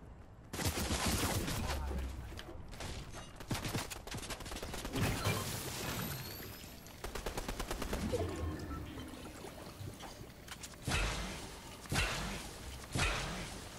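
Bursts of video game gunfire crackle through most of the stretch, with dense rapid volleys and sharp reports coming in waves, loud and close, separated by brief lulls.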